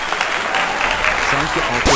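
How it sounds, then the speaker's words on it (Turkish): A dense applause sound effect added in a video editor, sustained crowd clapping at full level, with a person speaking over it and a brief sharp sweep at the very end. "Şuraya ekleyelim bir daha. Alkış seslerini."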